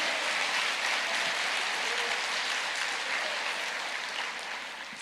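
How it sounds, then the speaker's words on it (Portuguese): Sustained congregation applause at a Portuguese-language church service, a dense, steady wash of clapping that holds loud for about five seconds before tapering slightly at the end, with no voices over it. "Aplauda mais."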